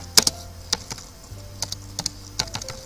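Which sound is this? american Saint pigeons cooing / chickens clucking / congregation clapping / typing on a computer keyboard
typing on a computer keyboard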